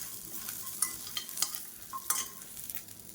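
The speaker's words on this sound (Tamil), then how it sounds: "இப்போ இதையும் சேர்த்து இதோட நல்லா வறுத்துக்கலாம்." Small onions frying with spice masala in a pan for a pepper chicken dish, a soft steady sizzle broken by several sharp scrapes and clinks of a spoon stirring, with no talking.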